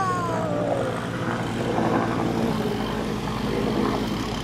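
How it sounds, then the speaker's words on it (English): A helicopter passes overhead near an outdoor pool, its steady rotor and engine drone loud and continuous throughout. "Helicopter."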